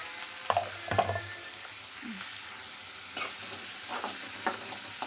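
Steady frying sizzle of chopped banana stem sautéing in a pan with occasional clacks of a spatula stirring, no talking.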